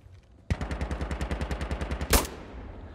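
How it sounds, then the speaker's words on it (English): Rapid string of gunshots from a firefight in the video game Insurgency: Sandstorm, about fifteen evenly spaced loud cracks in quick succession, then one sharper, louder blast near the end. "I'm trying to handgun them from so far away."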